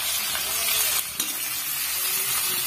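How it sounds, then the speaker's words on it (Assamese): Onions sizzle steadily in hot oil, a dense broadband frying hiss that stays loud and continuous, with a brief clatter near the middle. "এইফালে তেল দি ললোঁ এইফালে পিঁয়াজ দি দিলোঁ"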